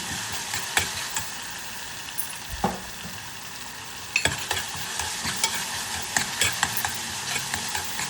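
Ginger garlic paste frying in a pan for baby corn biryani, a soft steady sizzle with scattered scraping stirs and clinks of a spoon, fairly quiet and close, no voices.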